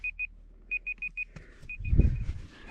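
A timer beeps in short, high electronic pips, first a pair and then a rapid run of four, before more faint beeps sound under a burst of low rustling handling noise close by.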